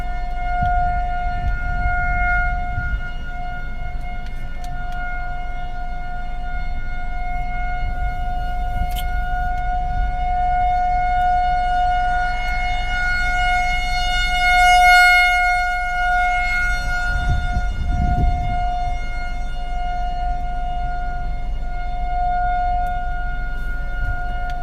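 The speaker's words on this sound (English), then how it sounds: "Tornado warning, or tornado sirens continuing" Civil defense tornado sirens wail steadily across Grapevine during a tornado warning, a sustained distant tone that swells and fades slightly as it rotates, with low storm rumble underneath and no voices.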